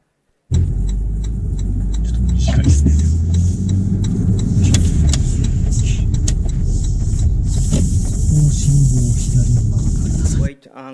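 A car drives along a road in Japanese traffic, giving a steady close rumble of engine and tire noise that runs from just after the start almost to the end, with brief clicks and knocks on top.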